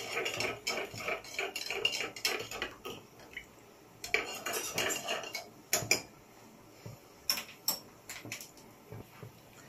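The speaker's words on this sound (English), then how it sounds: "I stir on a medium heat." A spoon clinks and scrapes against a metal pot in uneven bursts while chocolate and milk are stirred over medium heat on the stove, close and fairly quiet, with brief pauses between strokes.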